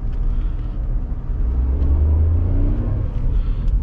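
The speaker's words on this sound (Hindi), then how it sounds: "ये फर्स्ट गियर पे अभी गाड़ी चला रहा हूँ" A 2023 Tata Punch running on CNG pulls away in first gear, its engine giving a steady low rumble and whir that swells slightly as it accelerates, heard from inside the car with no talking.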